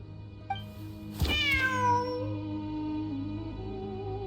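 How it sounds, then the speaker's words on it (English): A cat in the video game Genshin Impact gives one clear, drawn-out meow with a falling pitch, close and loud over a steady ambient game soundscape. "Wait, there it is! The cat!"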